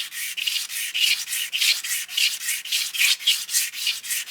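Rhythmic back-and-forth strokes of 320-grit sandpaper rubbed by hand across a small-block Ford engine front cover, about ten steady passes in a row, close and fairly loud with no talking.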